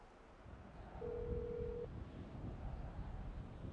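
A single steady electronic tone, like a phone SMS alert in GTA RP, sounds for under a second over low rumbling background noise.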